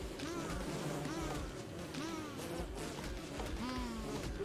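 Bees buzz in Don't Starve Together, a steady droning insect hum with wavering pitch that runs through the whole stretch, mixed with game music and background sounds.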